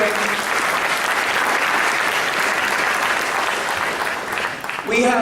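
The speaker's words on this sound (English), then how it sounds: "So I want to give Maria Urena a round of applause." A crowd at an economic summit applauds loudly and steadily for about five seconds, and the clapping tapers off as a voice starts speaking at the end.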